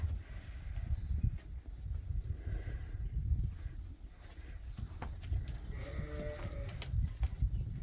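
Sheep on a farm bleat near and far over rustling and hoof movement in a pen, with a few clear calls rising above the steady background shuffle.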